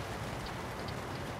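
Steady, dense rain hissing on surfaces in the American Truck Simulator video game, an even wash with no breaks and no voices.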